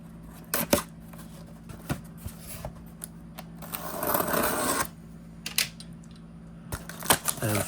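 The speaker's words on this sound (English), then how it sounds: "I'm going to just cut the tape" A blade slices through packing tape on a large shipping box, giving a short, close scraping and ripping stretch in the middle, set among scattered light clicks and taps of handling.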